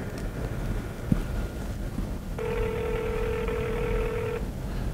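A steady electronic telephone ringback tone from a call placed through Google Voice, lasting about two seconds over a hissy, windy background, with a faint tap just before.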